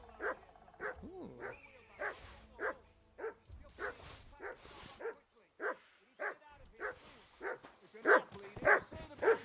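A dog in the video game Kingdom Come: Deliverance II barks and whimpers, a close run of short yips and whines in an uneven rhythm, with a man's speech between them.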